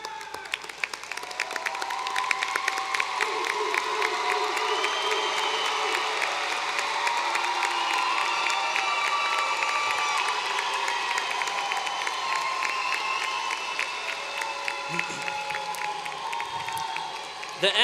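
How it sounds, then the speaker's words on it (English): A large indoor crowd at a university commencement applauds and cheers steadily, dense clapping mixed with whoops and shouts, sustained throughout. "give them a round of applause"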